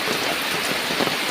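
Steady rain pours down around a home where fruit is dropping from the trees, a dense continuous hiss of drops on surfaces, loud and close with no pause.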